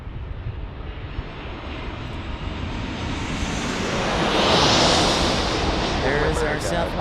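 A Southwest Airlines airliner at San Diego airport roars past with a broad engine rumble that swells to a peak and then slowly fades, loud and steady, with a voice talking faintly beneath it.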